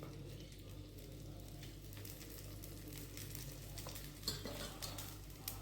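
Rice flour batter spread thin on a pan with oil poured around it, frying with a steady soft sizzle and a few light scrapes and clinks near the end.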